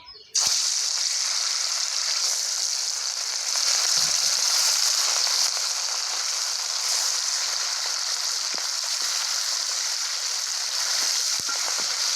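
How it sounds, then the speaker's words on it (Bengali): Rui fish fries in hot oil in a wok, with a loud, dense, unbroken sizzle that starts abruptly and holds steady throughout, plus a few faint knocks. "মাছটা আমার একদিকে ভাজা হয়ে গেছে এখন আরেক দিকে ভেজে ভেজে নেবো"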